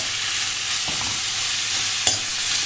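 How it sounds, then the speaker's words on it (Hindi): Green, yellow and red capsicum with mild Bhavnagri chillies sauté in hot oil in a pan, giving a steady close sizzle with a faint stir or scrape, no talking. "हमें इन सब्जियों को गलाना नहीं है, बस हल्का सा तेल में सॉस करना है।"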